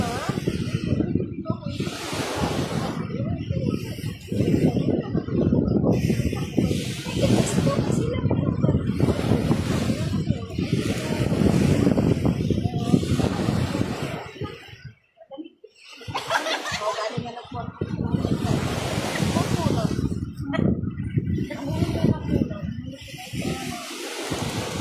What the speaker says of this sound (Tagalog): Hangin-hangin magud ang dagat, son.